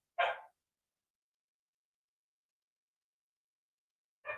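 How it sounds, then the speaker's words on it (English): Two short, faint dog barks separated by about four seconds of silence, sounding distant and isolated. "that is my dogs barking, if you can hear them"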